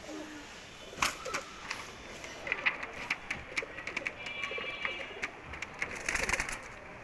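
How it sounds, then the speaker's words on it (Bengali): Male pigeon cooing, a Girbaz flying breed, giving a few soft, low calls among other bird sounds and clicks, fairly faint and without talk. "নর কবুতর।"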